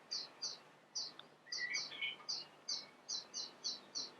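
A cinnamon blackbird cock sings from the background of an aviary of British birds, with about a dozen bright, evenly spaced chirping notes and a brief warbled phrase near the middle, all moderately faint.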